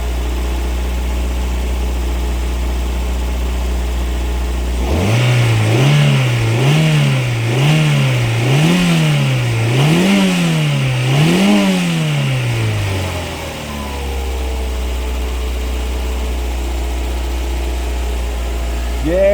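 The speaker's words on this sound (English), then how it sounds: "Let's give it a rev." Toyota MR2 petrol engine, burning some oil, revved repeatedly from idle: about six quick rising-and-falling revs in a row, loud and close, then it settles back to a steady idle.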